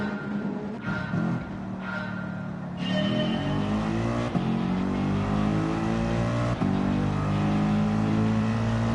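At a Gran Turismo 7 race start, the Up Garage AMG and rival cars rev hard, engines climbing and shifting up in a loud, sustained roar close by.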